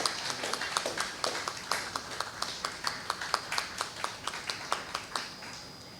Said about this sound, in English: Can we all give him a big round of applause?